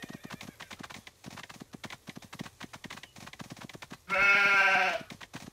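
Cartoon sheep in the Paw Patrol Academy kids' video game give one short bleat near the end, breaking through steady, rhythmic clip-clop trotting that runs throughout.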